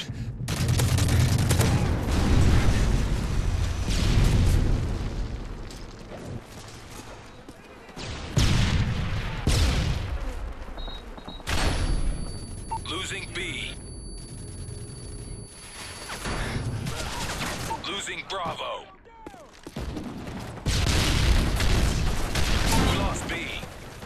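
Repeated heavy booming explosions and rumbling blasts from a Predator missile and airstrikes in a video game, interspersed with gunfire and mechanical noise, with radio-style voice announcements heard between the impacts.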